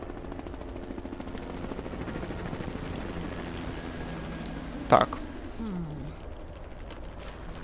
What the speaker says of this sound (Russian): Полицейский вертолетик